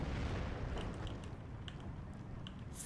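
Spitfire fighter attack in the World War II strategy game Steel Division 2: a dense wash of loud rumbling explosions and artillery-like booms, with sharper bursts cutting through near the end.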